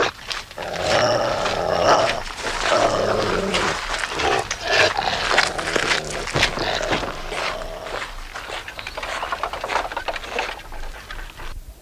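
A dog growls low and continuously in a 1991 Sherlock Holmes television episode, blended into a busy, noisy scene with shuffling movement and other sounds.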